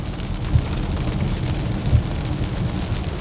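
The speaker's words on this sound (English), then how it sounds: "It's kind of like listening to the rain on the windshield." Steady rain drums on a car windshield, a dense close patter with soft low thumps, continuous and fairly loud, no voices.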